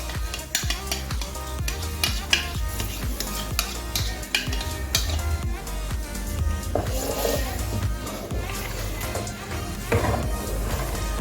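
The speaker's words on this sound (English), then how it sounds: "we are going to allow it to fry until the water and the tomato is drained completely" Steady sizzling of a tomato mixture frying in hot oil with chopped onion for buka stew, with occasional stirring and utensil clinks against the pan.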